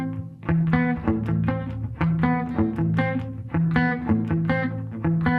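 The cello opening of a song played on guitar. Plucked notes alternate with strummed chords in a steady, bouncing rhythm, clear and close, with no voice.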